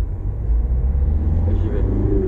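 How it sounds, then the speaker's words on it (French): A car pulls away from a stop sign in first gear on a town street, its engine giving a loud, close, steady low rumble for a couple of seconds. "je m'arrête au stop, je repasse une première, je réaccélère bien"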